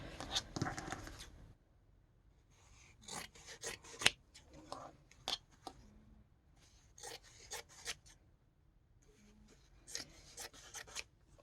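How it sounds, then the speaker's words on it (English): Scissors snip through a folded strip of quilting fabric in short bursts of crisp cuts separated by quiet pauses, close and fairly faint. "I cut each of these pieces in half diagonally."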